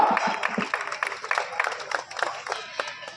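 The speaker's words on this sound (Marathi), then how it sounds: "यात्रा कमिटीसाठी सर्वांनी एकदा टाळ्या करा." A crowd at a village fair wrestling match claps, loose uneven applause with distinct individual claps, moderately near and fading slightly over its course.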